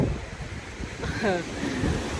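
Rough sea surf breaks beside a hotel in Phuket, a steady loud roar of waves and wind noise filling the whole clip, with a faint voice briefly audible partway through.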